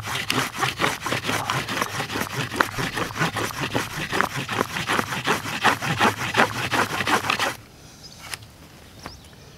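A cotton fire roll rolled back and forth under a wooden board with firm pressure, a rhythmic series of fast rasping wooden rubs that stops abruptly near the end, leaving quiet.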